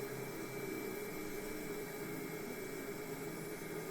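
Steady broadband engine roar from a DHC-3 Turbo Otter turboprop throttled back to idle on a slow landing approach, a continuous even whine and rush with no voices over it.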